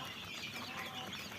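Chickens cluck continuously inside a coop, a dense, steady flock chatter heard up close and fairly quiet, with no one speaking.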